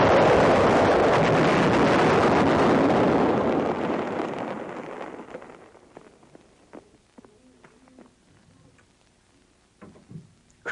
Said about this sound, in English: All firing in this demonstration is with instantaneous fuse setting.